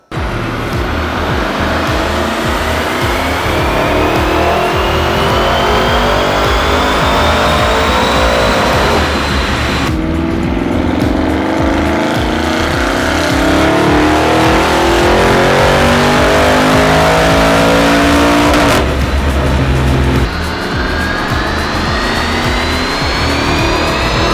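Stage 3 Unitronic-tuned Audi RS6 running 100 octane fuel, revving hard on a chassis dyno in three loud sustained pulls, engine pitch climbing steadily through each run with brief breaks between them, no talking.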